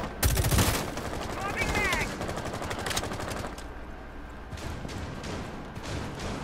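Gunfire during a ranked video game match: bursts of rapid shots that are loudest early on, then thin to scattered, quieter shots, with players talking over the action.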